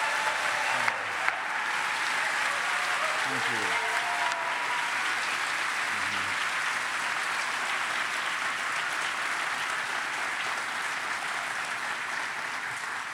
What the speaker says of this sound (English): Will you please give him some applause?